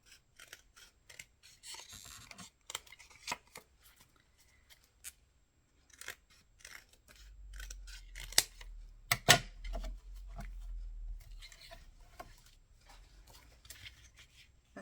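Scissors snip and trim paper for a mini file folder, giving quiet, scattered cuts with rustling and handling noises, and a brief low thump near the middle.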